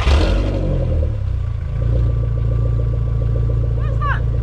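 A Volkswagen Mk4 Bora wagon engine idles loud and raw with its muffler removed, a steady low rumble with a rougher burst at the start and a brief squeak near the end.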